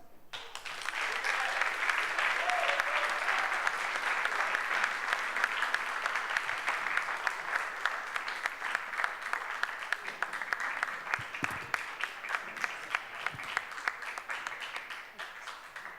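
Sustained applause from an audience at a school Christmas party in a gymnasium hall, dense clapping that holds steady for the whole stretch, with a few voices mixed in.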